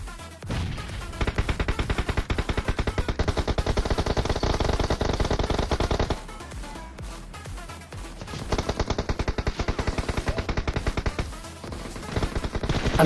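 Automatic gunfire in the video game PUBG Mobile, played on an iPad mini 5, comes in two long, loud, rapid bursts separated by a short lull in an open-field firefight.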